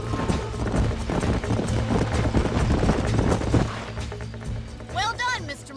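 Horse hooves clip-clop in rapid, dense rhythm in Red Dead Redemption, loud and close, fading out with a brief whinny at the end.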